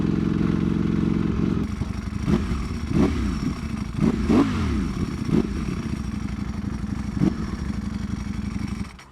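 A Ducati Panigale V4R superbike is ridden on cold tires, its engine droning steadily with several sharp revving bursts and throttle blips rising and falling, close and loud throughout with no talk.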